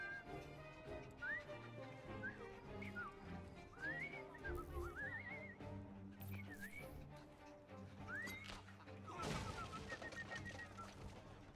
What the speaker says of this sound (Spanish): Acabo de aprender a silbar.